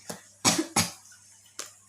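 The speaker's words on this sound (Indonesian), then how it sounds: "aku agak batuk teman-teman, minta maaf kalau misalnya sambil batuk" Several short, harsh coughs from a woman with a sore throat, in three or four separate bursts with pauses between them, fairly close and moderately loud, with no talking.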